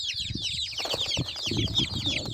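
A crowd of tiny chicks peeps nonstop in shrill, rapid cheeps close by, with soft rustling and scratching underneath.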